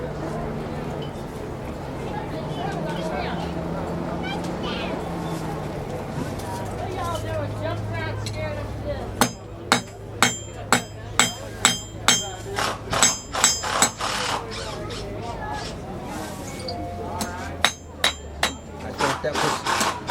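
Blacksmith hammering heated mild steel into a hook: after about nine seconds of low background sound, which may include talk, sharp metallic hammer blows ring out in a steady, close rhythm, with a brief pause before the final strikes.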